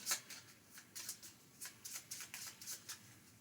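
Power Rangers: Heroes of the Grid game cards being shuffled by hand, a run of about a dozen crisp riffling bursts in a steady, close rhythm with no talking.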